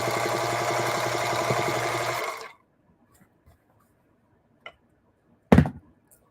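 A sewing machine stitches quilt fabric with a close, steady whirring run for about two seconds, then stops, followed by a few faint clicks and one louder knock.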